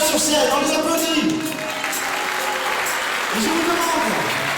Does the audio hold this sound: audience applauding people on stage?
yes